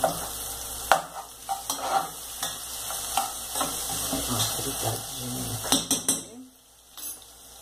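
Garlic frying in a pan as a tomato sauce for gnocchi al sugo gets started, with close stirring scrapes and light clinks of utensil on pan over a steady sizzle, ending in a brief quieter pause.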